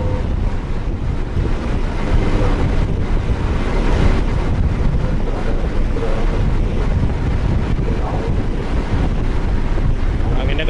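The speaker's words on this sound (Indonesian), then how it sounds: "Anginnya kenceng ya." Strong wind roars steadily into the microphone on a passenger ship's deck, with a constant low rumble like open water beneath, loud and unbroken.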